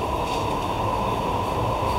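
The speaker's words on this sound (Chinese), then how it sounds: "我们被困在地铁里了。" Inside a stalled subway train: a steady, loud, unbroken rumble and hum fills the car with no distinct events and no talking.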